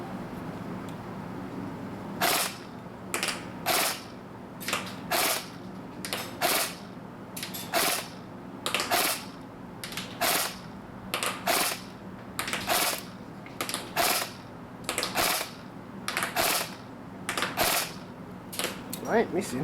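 KWA Kaiju 47 airsoft gun firing on burst mode outdoors, about twenty sharp clustered bursts of rapid snapping shots in a steady rhythm, loud and close, with no voices over them.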